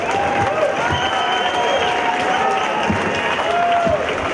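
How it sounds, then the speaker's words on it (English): A crowd at a No Fear amateur fight event applauds both fighters after the bout. Loud, continuous clapping mixes with some cheering, and a wavering tonal sound runs on top. "Ladies and gentlemen, a round of applause for both fighters."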